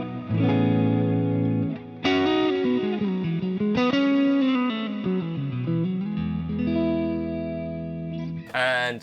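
Electric guitar played through an ODS 100 Ford overdrive amp model with gain around 5, a 4x12 Recto cab, dual delay and reverb; sustained distorted chords and ringing notes shift pitch, loud and continuous, with a brief bright noise burst at the end.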